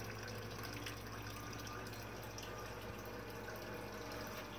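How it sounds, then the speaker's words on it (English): Wort for a Norwegian farmhouse ale drains by gravity down to a brewing pump, a faint, steady trickle and rush of liquid that runs continuously at low level. "The wort falls down to the pump using gravity"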